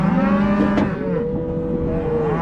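Calves and cows moo loudly and close by in a bud box, with several overlapping low, drawn-out calls held across the whole stretch and no talk.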